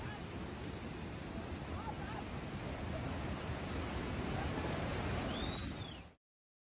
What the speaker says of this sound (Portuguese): Em meio ao som da água em fúria, ouvem-se gritos.